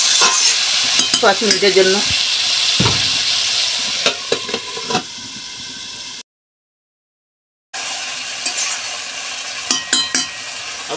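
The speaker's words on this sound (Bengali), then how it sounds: "এখন আমি হালকা নেড়ে নাড়াচাড়া করে ঢেকে দিব" A spoon stirs curry in a hot pan in a home Bengali kitchen, scraping and sizzling in bursts with steady frying hiss, broken by a brief silence before the stirring and sizzle resume.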